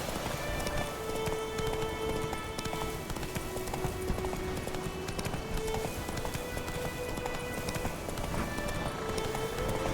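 Roach, the horse from the video game The Witcher, gallops with steady, even hoofbeats against a constant ambient background, with a faint tonal music line running through and no talk.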